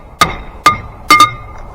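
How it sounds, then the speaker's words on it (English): A small hammer knocks at a stuck part on the wheel brake of a Cat 922B loader, four sharp metallic strikes, the last two in quick succession, loud and close with ringing decay between hits. "we'll have to get a little hammer and a pry bar"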